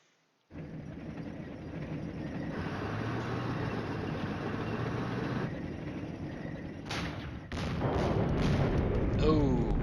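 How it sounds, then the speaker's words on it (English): Artillery fire in the war game Flashpoint Campaigns: Red Storm, a sustained roar of distant barrages that swells and then breaks into sharper, louder booming bursts near the end. "And now our artillery has arrived."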